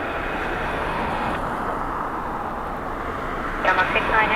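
An airplane on Dublin Airport's runway 16 on a crosswind day gives a steady, moderately distant roar that holds evenly throughout, with a slight rise near the end.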